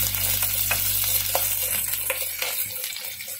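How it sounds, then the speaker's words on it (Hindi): Sliced onion sautés in a hot pan with a dense, steady sizzle and crackle, close and continuous, with occasional stirring scrapes and a low hum underneath. "अब इसमें 1 स्लाइस्ड अनियन, इसको मैं 1 मिनट के लिए सौते कर लूंगी"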